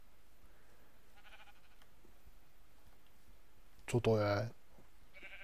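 A pink sheep bleats once in Minecraft, a single loud wavering bleat close by, amid quiet game ambience and a man's brief speech.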